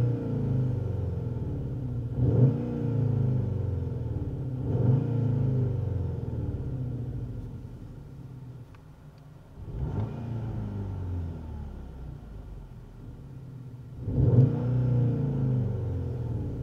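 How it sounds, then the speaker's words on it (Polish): A Skoda Octavia RS 2.0 TSI engine heard from outside, rumbling steadily with several revs rising and falling, alone without voices. "Zobaczcie zresztą sami, jak brzmi Octavia RS na zewnątrz."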